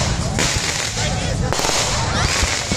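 Fireworks and firecrackers burst in rapid, dense crackling volleys with sharp pops, loud and continuous, amid celebratory gunfire of many calibers.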